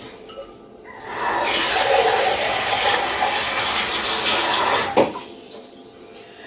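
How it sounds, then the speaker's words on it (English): Water gushing steadily from a tap into a big cooking pot for a few seconds, a broad close splashing rush, then cutting off with a clank of the pot. "So this is the pot and we need water in it."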